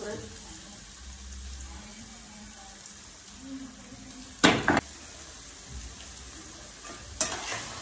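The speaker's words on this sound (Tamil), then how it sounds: "நல்லா இஞ்சி பச்சை மிளகா பூண்டு நெல்லிக்காய் எல்லாம் நல்லா வதங்குறதோட" Ginger, green chili, garlic and amla sauté for a mixed pickle with a low, steady sizzle, broken by two short, louder scraping clatters of stirring midway and near the end.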